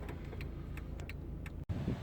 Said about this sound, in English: Here I am getting towed by the Octavia.